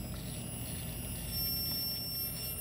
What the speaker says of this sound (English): Now what I've figured out is that's actually these resistors. Oh, they're actually getting warm. They're singing.